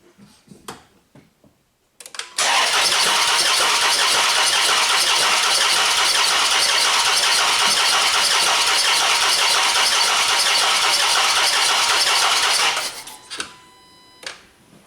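A Chrysler 300 with a misfire fault is started by push button: a short crank, then the engine catches and runs loud and close for about ten seconds before shutting off, with faint clatter before and after.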